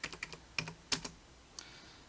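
Quiet keystrokes on a computer keyboard as a CAD command is typed, about a dozen quick taps in a short burst followed by a single later press, close and faint with no voices.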